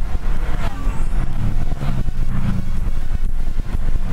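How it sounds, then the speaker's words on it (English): An all-electric Renault Zoe climbs the Oberalp Pass mountain road in the Swiss Alps, giving a steady, loud rush of road and wind noise with a low hum throughout and no voices. "We are back today in the all-electric Renault Zoe, and we are driving, as you might expect, on a beautiful, beautiful mountain road."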